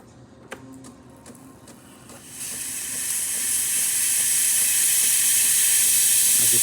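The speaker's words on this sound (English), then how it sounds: "As you can see, steams perfectly. Comes out nice and easy." A Breville espresso machine's thermoblock steam wand starts with a few clicks, then bursts into a loud, steady hiss that builds and holds to the end, with no voices.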